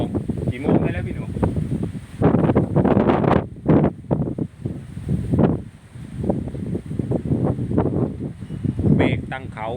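Strong, gusty wind roars across the microphone just before a storm in Nonthaburi, Thailand. It is loud and continuous, rising and falling through the whole clip, and someone speaks faintly underneath.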